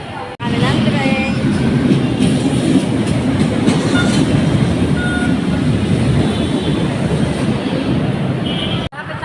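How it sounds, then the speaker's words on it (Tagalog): A passenger train runs on rails with a continuous, loud rolling rumble and faint clickety-clack, heard from on board and steady for most of the stretch before a brief cut near the end. "Sakay na po kami ng train."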